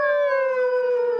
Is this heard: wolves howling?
yes